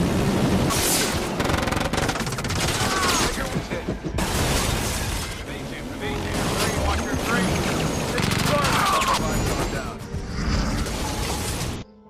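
Rapid bursts of automatic gunfire from the Hydra weapon in the film Olympus Has Fallen, mixed with crashes and mechanical clatter, keep up throughout under a dense action soundtrack.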